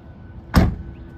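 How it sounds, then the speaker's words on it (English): A car door is shut in a vehicle fitted with a subwoofer box with an aero port: one sharp, loud, solid thump with a brief rattle, standing alone against quiet background. "See, the door is shut now."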